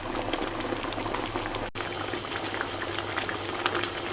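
A pasta sauce for spaghetti bubbles vigorously on high heat as its water cooks off. It makes a close, continuous, steady boiling burble for about four seconds with no talk.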